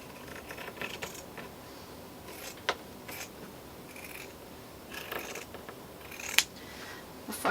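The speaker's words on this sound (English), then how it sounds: "So now I'm going to cut this out." Scissors snip through material while cutting out a part for a Frankenstein puppet, a quiet close run of small cuts with a few sharper clicks and no talking.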